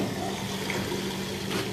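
Water running from a tap into a bucket at a cemetery during a funeral-preparation demonstration, a steady low rushing pour that continues evenly throughout.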